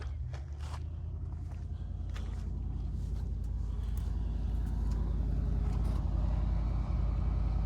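A Land Rover engine idles and rumbles steadily as the vehicle is maneuvered around to face a trailer for loading, a constant low drone close by with faint scuffs over it.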